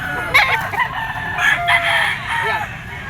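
A young White Kelso stag rooster, yellow-legged, crows in several short, hoarse bursts, close by, with faint background noise.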